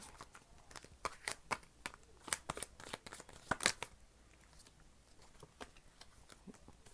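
Tarot cards are shuffled and pulled, a quiet, close series of crisp riffling snaps and flicks in irregular bursts, with no talking.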